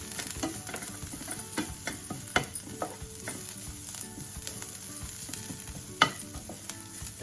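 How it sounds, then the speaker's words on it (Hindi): Cabbage and mixed vegetables frying in a pan for veg manchow soup, with a quiet constant sizzle and frequent sharp clicks and taps of a spatula stirring, one louder knock near the end, no talking. "गोभी है वो भी डाल देते हैं। अब हम थोड़ी देर फ्राई करते हैं।"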